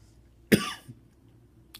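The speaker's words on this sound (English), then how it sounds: "Excuse me, I coughed." A single sharp cough sounds close to the microphone, followed by a faint throat noise and quiet background.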